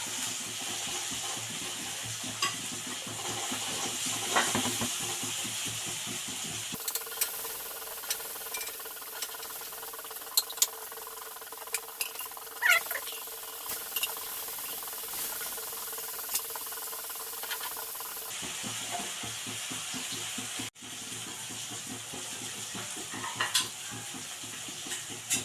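Tuna pieces fry in hot oil with a steady sizzle while a ladle stirs and scoops, clinking against the pan now and then. The sizzle shifts tone partway through as the frying changes.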